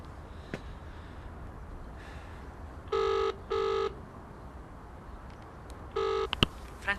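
Several telephone keypad tones are dialed as a number is entered, with two beeps in quick succession, then a pause and a third beep, plus faint clicks from the handset in a quiet room.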